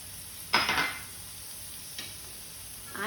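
Spices with salt, turmeric and red chili powder are roasted in a pan for Mumbai vada pav. A soft background sizzle is broken by a few close scraping stirs, one strong and two lighter.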